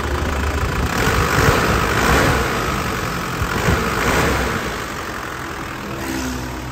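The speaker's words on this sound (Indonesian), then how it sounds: "Lur, ini mesinnya sudah nyala. Mesinnya kelihatan masih renyah kas Panther ya. Dan mesinnya tenang, tidak ginjal." A 2004 Isuzu Panther LS diesel engine idles steadily and fairly loud up close, a continuous rumbling drone with slight rises and falls and no voices.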